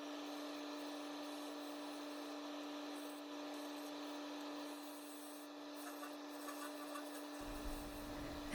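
A woodturning lathe truing the bottom of a figured maple bowl gives a steady, even motor hum with a continuous scraping rasp of tool on wood, alone and fairly quiet.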